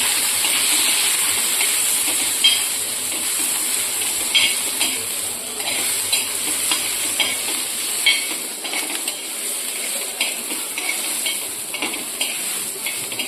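Thecha, a coarse chili paste with a little coriander, sautéed in a pan, with a steady loud hiss of frying and occasional light stirring scrapes running throughout, no voices.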